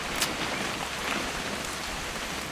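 Steady rain falls in the video game What Remains of Edith Finch, a soft, even patter on surfaces that holds at a constant level throughout, with no voices or thunder.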